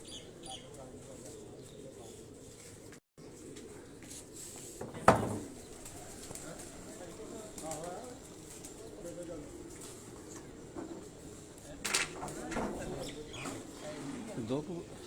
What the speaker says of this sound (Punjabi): 2 ਕਬੂਤਰ ਬੈਠ ਚੁੱਕੇ ਨੇ